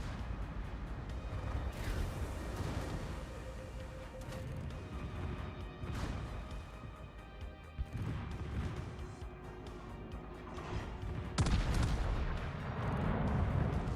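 Warship main battery guns firing in World of Warships, heavy booming blasts and crashing impacts over a dense rumbling background, with a loud salvo near the end.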